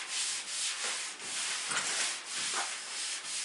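Rubbing by hand across the rust-pitted steel hood of a 1952 pro street car during copper plating, a steady rough scrubbing hiss in short repeated back-and-forth strokes, close up with no talk.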